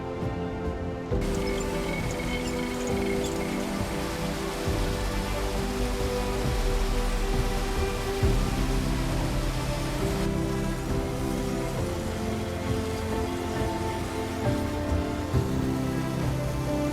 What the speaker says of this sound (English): it started to rain a little on us